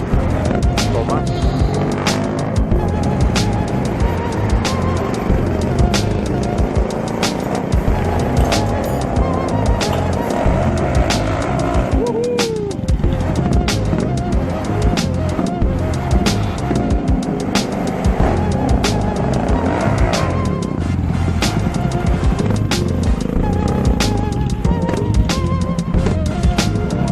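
Motorstar Cafe 400 motorcycle with a noisy exhaust pipe running steadily, its engine loud and close throughout with uneven throttle changes and a rough, rumbling note.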